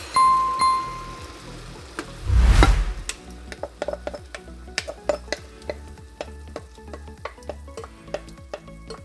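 Tomato sauce poured over golden fried onions in a hot pan bursts into a loud sizzle, followed by a steady run of close spoon scrapes and clinks against the pan as it is stirred.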